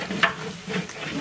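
Ground spice paste with turmeric and chili powder being stir-fried in a pan for a shrimp and vegetable curry, a soft steady sizzle with faint scraping strokes of a spoon, one brief clack near the start, quiet and close.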